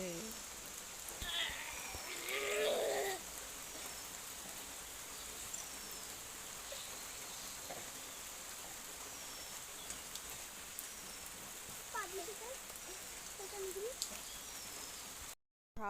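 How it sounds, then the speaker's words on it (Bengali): Heavy rain pours down outdoors as a steady broad wash of falling water, with a few faint bird calls and brief distant sounds over it. "দেখো কত বৃষ্টি পড়ছে"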